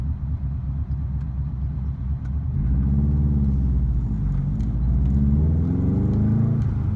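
A turbocharged car with a freshly broken-in engine and a stiffer stage 2 competition clutch pulls hard on boost near 10 to 11 pounds of wastegate pressure, its engine rumble rising and swelling in pitch twice, heard steadily from inside.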